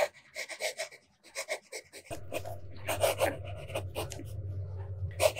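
A fountain pen with a medium nib scratches across paper in short bursts of strokes, close and quiet, with brief pauses between words and a low hum joining partway through.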